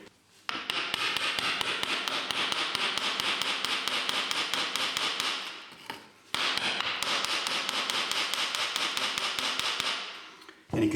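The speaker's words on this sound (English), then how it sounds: "now we can take a chisel and the club hammer, and we can now proceed to take the face off that brick" Rapid, steady metallic chipping from a club hammer striking a chisel to take the face off a brick, two long bursts of fast blows separated by a brief pause, loud and close.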